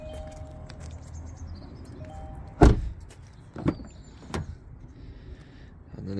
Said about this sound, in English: Electric windows in the back.